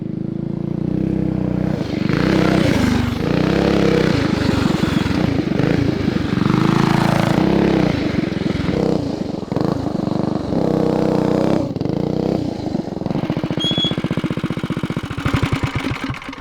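A custom full-suspension mini dirt bike's engine revs loud and close, blatting and torquey with repeated throttle bursts and choppy idle stretches during a first ride.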